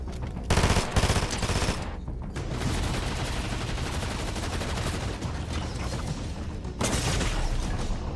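A shotgun is fired in the first-person shooter Unreal, sounding as dense, loud bursts of gunfire and booms that run almost without pause for several seconds, with no one talking.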